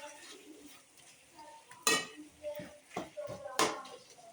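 Drumstick and tomato pieces frying with ginger garlic paste in a pan, a soft sizzle broken by a few sharp clinks of a stirring spoon against the pot, with faint talk underneath.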